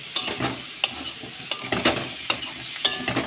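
Potatoes and spices frying with turmeric in a pan crackle in a constant sizzle, broken by sharp stirring scrapes roughly every half second.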